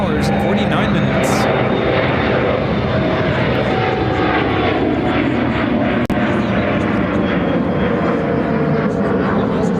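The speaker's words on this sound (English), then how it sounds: "American Dreamliner up next for arrival on 28 Center" An American Airlines Boeing 787 Dreamliner lands on runway 28 Center at Chicago O'Hare, arriving from Barcelona, with a loud, continuous jet engine roar and rumble throughout, close and steady.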